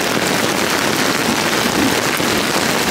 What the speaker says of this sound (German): das ist richtiger Starkregen.